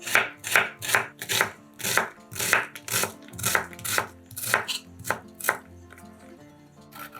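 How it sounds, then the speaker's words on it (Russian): A knife chops an onion into cubes on a board, about a dozen sharp, evenly spaced close strikes in a steady rhythm, with no talk. "Одну луковицу нарезаем кубиками."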